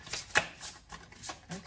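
A deck of oracle cards is shuffled in quick, soft, papery bursts, about six separate riffles spaced evenly and heard close up.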